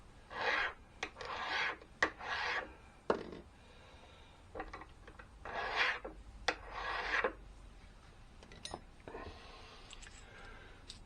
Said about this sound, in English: I'll give them a bit of a rub on a file over here to make sure that there are